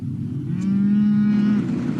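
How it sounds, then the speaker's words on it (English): A cow lets out a single long, loud, close moo at a cattle feedlot in southern Manitoba, rising then holding steady for about a second over a low farmyard rumble. "Blaine Peterson operates a cattle feed lot in southern Manitoba"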